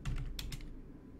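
Quick bursts of typing on a computer keyboard while writing a batch file menu, a few close, crisp keystrokes clustered at the start and then a quiet pause, with no voices.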